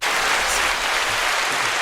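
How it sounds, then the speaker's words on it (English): A steady round of applause from a group, dense and continuous clapping at close range that fills the whole moment without letting up. "Round of applause all around."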